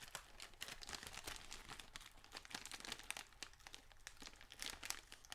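A Ziploc-sealed plastic seed packet is pulled open, giving a close, quiet run of crinkling and sharp crackling bursts from the plastic.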